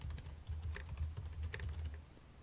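Computer keyboard keys being typed on while a file name is entered in Illustrator CS6, a quick uneven run of close, crisp clicks for a couple of seconds with no voices.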